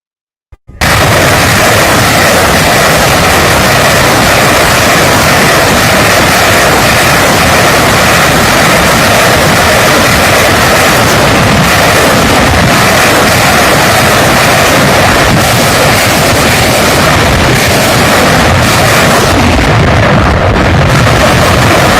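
Grad BM21 rocket artillery battery firing a continuous roar of launches and blasts, loud and dense throughout, with no talk.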